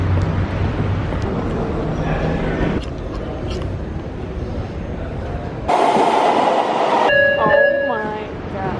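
Metro train rumbling through a station, a broad steady roar that drops off and then swells again near the end, with squealing wheel or brake tones over the noise.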